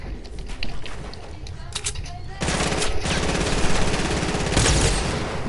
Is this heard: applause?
no